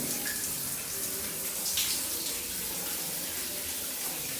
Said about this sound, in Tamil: இப்படி ஆன் பண்ணாலே ஷவர் அதில் வந்து வரும்.